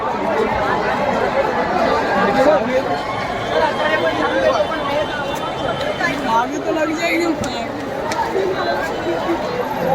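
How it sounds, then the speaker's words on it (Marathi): A dense crowd fills the packed Churchgate railway station as people gather to welcome the Indian cricket team, producing steady, loud, overlapping chatter and babble that continues throughout without a break. "तुम्ही बघू शकता पूर्ण चर्चगेट स्टेशन पूर्ण खचाखच भरलेलं आहे मित्रांनो"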